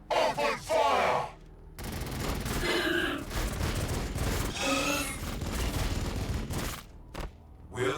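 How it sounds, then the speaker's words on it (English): Sustained gunfire from Warhammer 40,000: Battlesector, a dense, loud fusillade of rapid shots that runs for several seconds after a short burst of voices at the start. "Open fire!"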